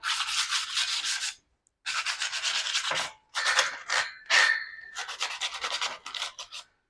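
Sandpaper scuffs back and forth over a surface in several loud, close bursts of rough rasping, separated by brief pauses, with no talking.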